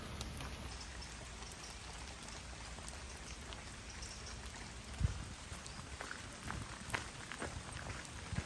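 Rain falls steadily with scattered drips and patters, plus a few soft footsteps and thuds, all fairly quiet, at Black Rocks in the Peak District.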